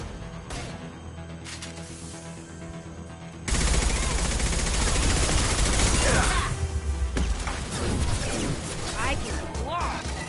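Heavy weapon fire in the video game Mass Effect 2, a loud sustained barrage of rapid shots and crashing impacts that bursts in after quieter combat, with voices shouting over the battle.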